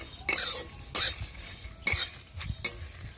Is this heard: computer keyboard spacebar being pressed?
no